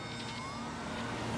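Fire engine sirens wail faintly in the distance at an airport as fire trucks clear a runway for a diving DC-10, a thin warbling tone over steady noise.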